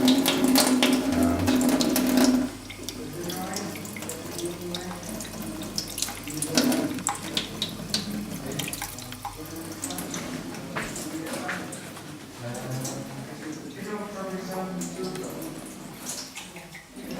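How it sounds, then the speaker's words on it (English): Water runs from a tap in a slow trickle over a photographic plate being washed, a steady close splashing and gurgling while a person speaks over it. "We wash the plate with water."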